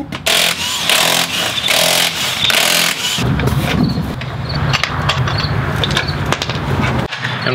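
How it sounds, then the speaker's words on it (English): Loud pneumatic-style impact wrench rattling continuously against the rear wheel lug nuts of a 2002 Chevy Silverado pickup, a harsh buzzing hammer that runs nearly the whole time with a brief stop and restart partway through. "But I've got a giant powered impact wrench."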